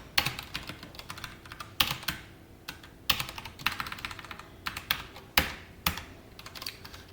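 SQL being typed into a MariaDB database on a computer keyboard: steady, close key clicks with irregular rhythm and a few sharper, louder strikes, with no talking.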